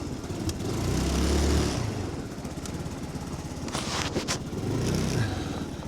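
A Chinese Mustang scooter being ridden on a snowy road after throttle position sensor repairs, its small engine droning steadily with slight swells in revs and a few clicks and knocks over the top.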